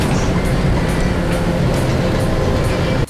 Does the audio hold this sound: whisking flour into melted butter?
no